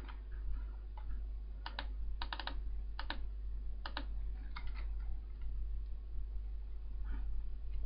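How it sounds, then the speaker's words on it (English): Quick clusters of keystrokes click on a computer keyboard, light and close, in short bursts separated by pauses over a low, constant hum. "So when I type in pulverizer"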